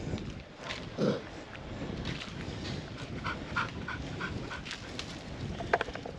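Stray dogs at a temple in Thailand panting nearby, soft rhythmic breaths with an occasional whimper, set against faint outdoor background noise.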